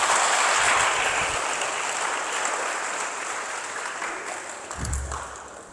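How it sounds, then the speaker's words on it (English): An audience at a school event applauds as a Buddhist monk comes on stage, a dense, sustained roar of clapping that gradually thins, with a brief thump near the end. "let's give a round of applause for Venerable Huei Hsuen"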